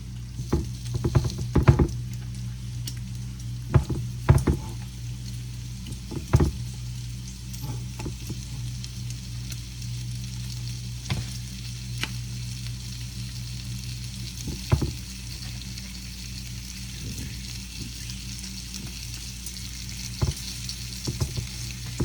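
Sausage sizzles steadily in a pan, a constant frying hiss broken by occasional clinks and scrapes of a utensil, with no talking.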